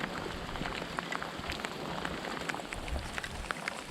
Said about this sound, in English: I just love summer rain.